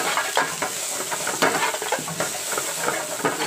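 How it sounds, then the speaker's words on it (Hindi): Chopped garlic with green chilli and onion fries in a pan for bhindi fry, a loud continuous sizzle and hiss broken by intermittent stirring scrapes. "इसे अच्छे से फ्राई करना है।"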